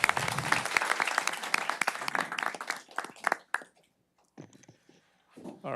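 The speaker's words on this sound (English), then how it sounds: "let's give them all a round of applause" A round of applause at a city council meeting, a small room of people clapping briskly for a few seconds before it thins into scattered last claps and quiet, then a voice begins.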